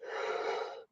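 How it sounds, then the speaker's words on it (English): One person yawns once, close and soft, as a breathy exhale that fades out abruptly, with no talking. "I'm feeling tired, and of course I yawn right after I say that in my head"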